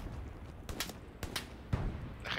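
A few sharp gunshots in the video game Hell Let Loose crack in quick bursts at moderate distance, separated by short quiet gaps.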